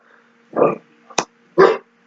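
A dog gives a few sharp separate barks, two louder ones and a shorter yip between them, nearby, against a quiet indoor background.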